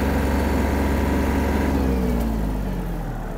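A Yanmar RS-27 mini tractor's engine drones steadily and close while it maneuvers, the loud constant run easing slightly toward the end, with no speech.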